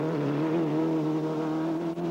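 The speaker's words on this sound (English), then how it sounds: "The roar of rally cars soon interrupted the quiet, with Bates intent on opening the gap to Gue" Loud, sustained engine roar with steady harmonic drone, 1995 rally cars revving hard and continuous on mountain forestry roads in the rain, close by, with a brief dip near the end.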